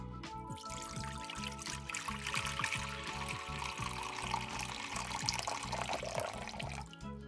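Grapeseed oil pours steadily into a container while making a homemade beginner face moisturiser, a continuous close liquid trickle with soft background music underneath.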